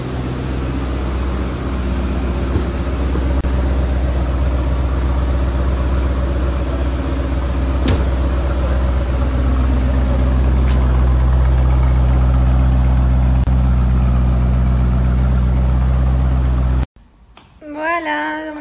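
A car engine runs steadily at close range, a continuous low hum and rumble with faint clicks and knocks for about seventeen seconds, then cuts off abruptly to near silence with a brief trailing sound.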